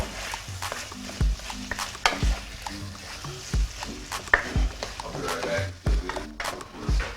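Meat cooking in a pan with repeated stirring and scraping clatter over a steady sizzle, plus some soft background noise.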